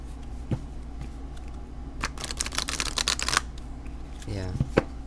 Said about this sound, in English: they shuffle really nicely